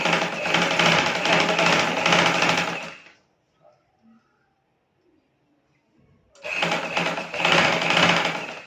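A sewing machine stitches the ruffled frill of a toddler's designer baby frock, running in a loud, steady whir for about three seconds, falling silent for several seconds, then starting up again for another steady burst.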